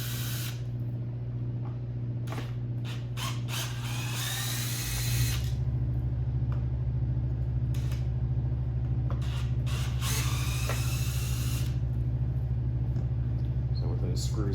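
A power drill whirs in long bursts during the installation of a subwoofer upgrade kit on a 2018+ BMW K1600B motorcycle, with a constant low hum underneath and short pauses between runs.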